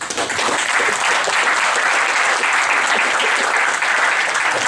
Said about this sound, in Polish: Wielkie brawa na zawodników.